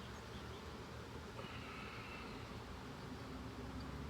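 Honeybees hum around an open, healthy beehive with a honey super, a faint, steady buzzing drone throughout with no speech.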